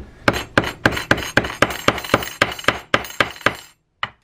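Soft blow hammer tapping a sleeve back into a Garcia Mitchell 624 deep sea fishing reel, about a dozen sharp, evenly spaced metallic knocks close up, then a short pause and one final tap.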